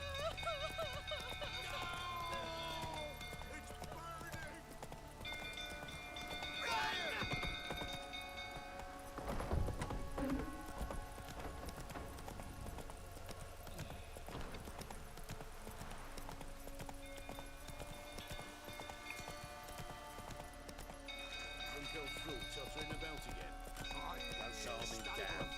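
Roach, Geralt's horse in The Witcher 3, clip-clops along in a steady hoof rhythm under game music and ambience, with a whinny and voices talking over it.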